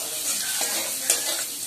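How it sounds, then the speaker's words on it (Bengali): Spices sautéing with potatoes in a pan, a continuous close sizzle with soft stirring scrapes, heard alone over a short stretch. "ভালো করে এটাকে কষিয়ে নিচ্ছে মশলাটা আলুটার সঙ্গে"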